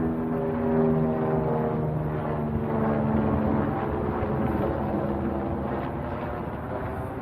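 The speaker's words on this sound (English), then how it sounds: "Oh, there's a helicopter." A police helicopter flying overhead makes a steady droning hum at moderate distance. It holds fairly even for the whole stretch and fades slightly toward the end.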